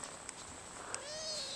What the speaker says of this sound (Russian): Ай, мурчишь, как мурчишь. Ай, мурчит.